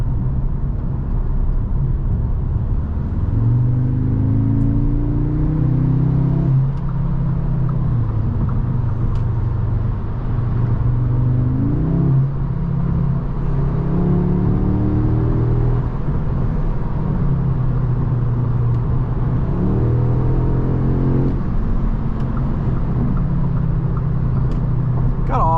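A 2023 Audi S3 engine revs up and accelerates in several rising surges, a steady droning rumble underneath, heard from inside the car with no talking.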